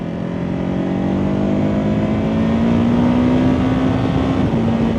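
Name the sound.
motorcycle engine braking in third gear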